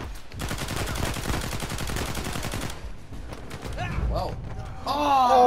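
Gunfire in the video game Uncharted 4, with a dense, sustained stream of rapid machine-gun shots for a few seconds, then creaking mechanical clatter and rising game noise.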